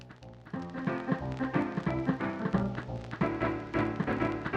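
Upbeat Paper Mario video game music played from a phonograph record at normal speed, with steady harmonic melody and rhythmic bass notes continuing throughout, loud and alone without talk.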